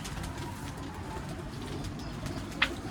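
Low, soft cooing of pigeons on a rooftop rolls steadily beneath outdoor background noise, with a brief sharp tap near the end.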